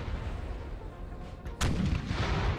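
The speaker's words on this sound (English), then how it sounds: "Right, cannon shots bouncing in." Cannon fire in Napoleon: Total War, a sharp broadband boom a little past halfway through, preceded by a steady rumble of battle noise and followed by a louder sustained roar of gunfire.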